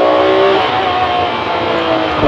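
Ferrari 599 GTO engine and exhaust heard from inside the cabin, a loud, continuous revving roar with a sustained harmonic whine that dips slightly before rising again, no voices.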